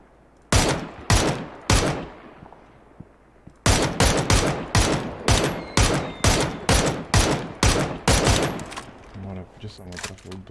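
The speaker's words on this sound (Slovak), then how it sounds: "Nie, po mne strieľajú." Loud, close gunfire in PUBG, a battle royale video game: a lone shot, then a pause, then a long run of rapid, evenly spaced rifle shots with a few quieter reports and voice chat faintly underneath.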